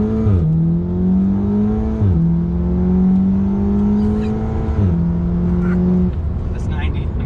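A car launches hard from a standstill, its engine revving up through several gears with clear rising pulls and brief dips at each shift, heard from inside the cabin with people present.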